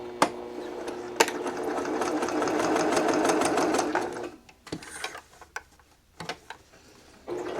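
A sewing machine stitches a fabric bookmark seam in a continuous whirring run of about four seconds, then stops, leaving a few short bursts and clicks as the layers are repositioned.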